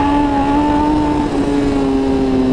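A Suzuki GSX-R1000 sport bike of almost 200 horsepower holds a steady, loud engine drone at high revs, with one slight dip midway and no talk.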